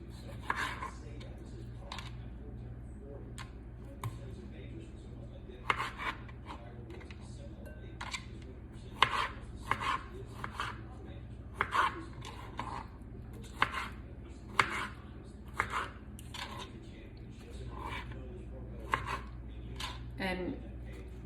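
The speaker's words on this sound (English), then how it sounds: "And I'm not like chopping anything super pretty, like roughly chopped." A knife roughly chops vine ripe tomatoes on a cutting board, giving irregular sharp taps that recur every second or so, fairly quiet and close, over a faint steady background hum.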